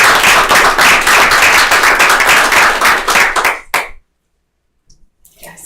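A round of applause in a board meeting room: close, brisk clapping from a small group for about three and a half seconds, cutting off abruptly into silence, followed by faint stirring.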